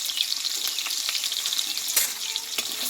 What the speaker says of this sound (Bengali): আলুটা একটু কষে নেব